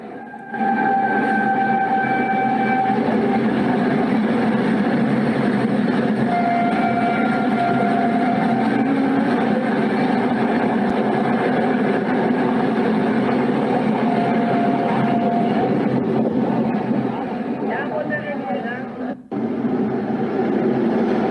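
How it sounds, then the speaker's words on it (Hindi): A double-engine train on a green corridor runs past with a continuous, loud, heavy rumble and steady tonal hums that hold for the whole stretch before a brief dip near the end. "डबल इंजन के साथ भागती हुई ग्रीन कॉरिडोर की ये रेल।"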